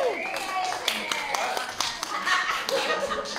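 Brief clapping for a student named Josiah at a church youth group, a few scattered claps over a background of chatter and light laughter.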